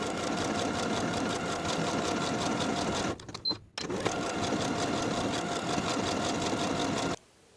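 A sewing machine runs close and steady, stitching buttonholes on a pants waistband, with a brief pause midway before it resumes and then stops.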